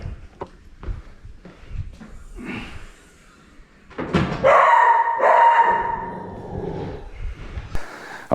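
A pet dog barks in several short, loud yips and woofs in an indoor room, with a longer whining bark in the middle and some handling thumps around it.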